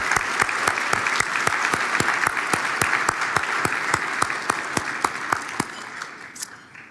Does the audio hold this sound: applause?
yes